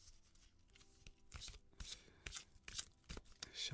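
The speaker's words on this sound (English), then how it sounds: "Shuffle, shuffle, shuffle." A deck of cards shuffled by hand, soft riffling bursts and flicks repeating irregularly, quiet and close.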